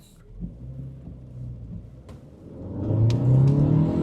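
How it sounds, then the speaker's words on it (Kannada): A 2026 Renault Duster with a turbocharged four-cylinder engine accelerates on an empty road, its engine note building steadily and growing louder toward the end, with a faint whistle rising above the engine near its peak. "ಟರ್ಬೋ ಕಿಕ್ಕಿನ್ ಆಯಿತು, ಲೈಟಾಗಿ ಟರ್ಬೋ ವಿಸಿಲ್ ಕೇಳುತ್ತೆ"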